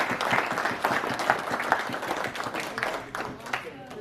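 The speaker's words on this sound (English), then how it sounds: "Can I have one big warm applause for Laryea?" Audience applause for Dr. Rachel Naa-Du Laryea at a book tour event in Amsterdam, a dense burst of many hands clapping that swells then gradually thins out over a few seconds, fairly close, with voices mixed in.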